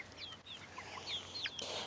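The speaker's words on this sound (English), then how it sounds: "This is a bantam rooster" A bantam rooster clucks in short, close, bright bursts scattered through the moment, over a steady low background hum.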